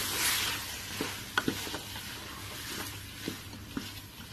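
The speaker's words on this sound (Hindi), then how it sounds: "इसको हमने अच्छी तरह से मिक्स करना है, भूनना है, फ्राई कर लेना है" Methi and potato masala fries in a pan for a dhaba-style Punjabi aloo salan, giving a soft, steady sizzle broken by a few light clicks and scrapes from stirring.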